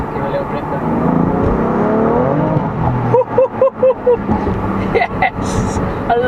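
A 2018 BMW M3 CS accelerating hard, the engine rising in pitch and then stuttering in rapid pulses as traction control cuts power, loud and close inside the cabin, with a voice over the first part.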